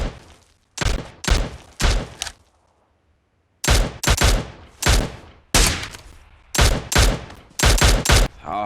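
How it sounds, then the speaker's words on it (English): Video-game gunfire in bursts of rapid, loud shots, several separate volleys with brief silent gaps between them, close and sharp. "What is that gun shot?"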